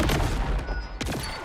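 Rapid gunfire from a weapon in Borderlands 4, a dense burst of loud close shots, a brief lull, then another quick volley.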